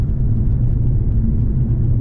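Infiniti Q50S Hybrid sedan cruising on cruise control along a straight road, with a loud, steady low rumble of engine and tyres and no voices.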